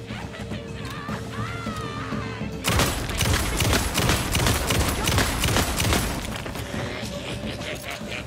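Gunfire from the video game Alan Wake 2, a dense burst of rapid shots and crashing impacts breaking out after a quieter opening and pounding steadily up close for several seconds before easing off.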